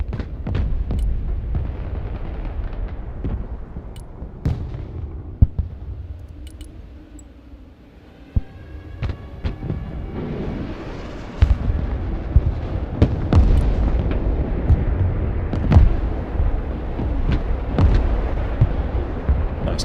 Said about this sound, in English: Play with artillery.